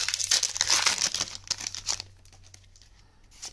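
Yu-Gi-Oh! Ancient Guardians booster pack wrappers crinkle and tear loudly up close as they are opened, with a dense burst of rustling that thins into softer, scattered crackles.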